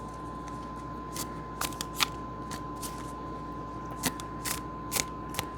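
Tarot cards are shuffled and drawn in a quiet room, with soft papery flicks and snaps at irregular intervals over a low steady hum.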